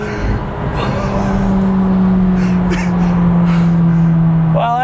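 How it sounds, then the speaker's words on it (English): A McLaren 720S sports car, a demo car with 1,000 miles, drives along with a steady, loud engine drone and a rising whine near the end, alone without talk. "All right, driving the 720S."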